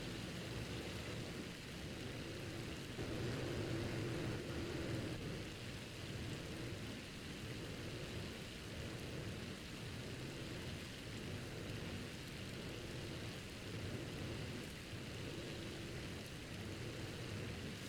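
A hailstorm with thunder in the Farming Simulator 25 video game makes a steady, dense, roaring patter with low rumbling underneath, unbroken for the whole stretch and with no voices.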